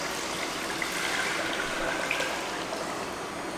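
Water poured from a container into a large cooking pot while making Jamaican ginger beer, a steady rushing splash that holds for about three and a half seconds with no talking.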